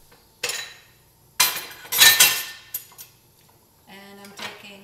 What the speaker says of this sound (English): I'm just mushing up the anchovies in the butter